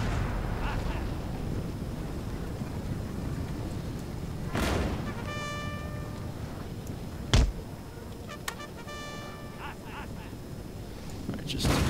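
Artillery cannons bombard troops in a Napoleon: Total War battle. Several sharp booms and cracks ring out at irregular intervals over a constant rumbling battlefield din.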